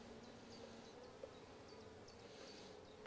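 Honey bees buzz around a hive during a nucleus transfer into a full hive, a faint steady drone of many insects with a few soft ticks and clicks.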